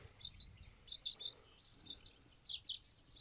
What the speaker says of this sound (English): There's an active bird's nest right in that corner.